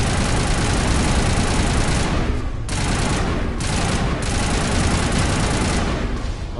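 Sustained, dense gunfire and explosive combat noise roars continuously during a Mass Effect sniper rifle fight in the final battle against Saren, with brief dips in the barrage.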